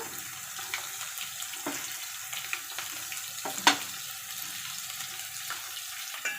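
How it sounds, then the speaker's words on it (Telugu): Soft, steady sizzling of fish frying in hot oil, dotted with small crackles and one sharper pop, fairly quiet and close. "పక్కన మీకు ఫ్రై సౌండ్ వస్తుంది కదా అలానే చేపలు కూడా ఫ్రై చేస్తున్నాను"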